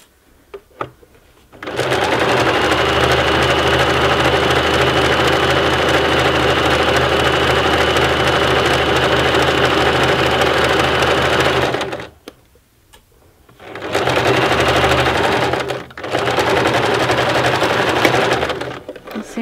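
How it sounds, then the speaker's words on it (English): A home sewing machine stitches tote bag fabric in a loud, steady mechanical whirr that runs for about ten seconds. It stops, then starts again for a second burst, with a short pause between runs. "And then I'm ready to keep sewing."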